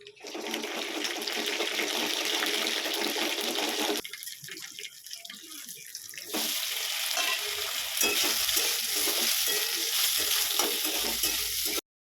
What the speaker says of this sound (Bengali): এ দেখুন তেল দিয়ে দিলাম দিয়ে দেবো সর্ষে আর লঙ্কা দেবো